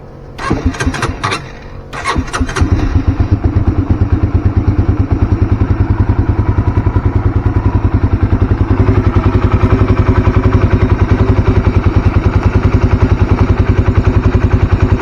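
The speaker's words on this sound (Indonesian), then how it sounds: "Kita tunggu 5 menit dulu ya buat rekam suara mesinnya." A motorcycle engine running on fresh Deltalube Adventure 20W50 oil, cranking and catching after a couple of start attempts, then settling into a loud, steady, close idle with an even rhythmic chug.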